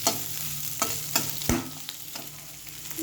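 Bitter gourd pieces fry in ghee with a constant sizzle, while a spatula scrapes and knocks against the pan in several sharp strokes, close up and without talk.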